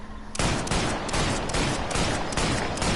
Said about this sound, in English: This is the Army Pistol 38, based on the real life weapon, Walther P38.